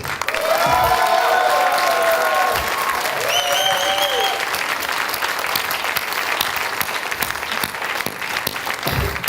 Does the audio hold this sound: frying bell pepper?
no